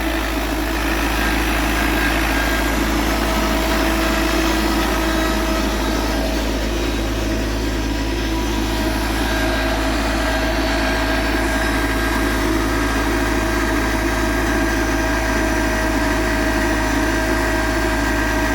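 Engine of a well-drilling rig boring a groundwater well through dense clay, running steadily and loud at close range with a constant low drone and hum throughout, no talk.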